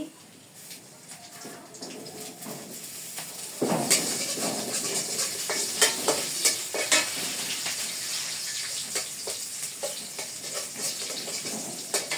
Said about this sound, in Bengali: কড়াইতে তেল দিয়ে দেই, পেঁয়াজ কুচি তো দিয়ে দিছি